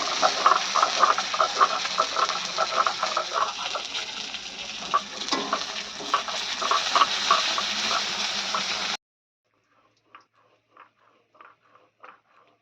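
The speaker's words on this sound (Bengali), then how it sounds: "মাছ ছিল তো মাছটা ভাজা করছে" Fish frying in a pan in a Bengali home kitchen, a steady crackling sizzle with occasional stirring scrapes for most of the stretch, then a sudden cut to near silence with a few faint clicks.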